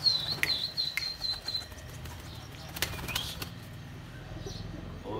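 Quick bursts of fighting pigeons' wings flapping close by, a few flurries of fluttering with faint chirps, then quieter rustling.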